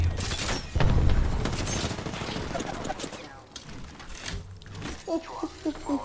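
Enemy gunfire in Apex Legends, rapid bursts of shots with a heavy thump early on, mixed with game effects and a player talking over it, loud and close throughout.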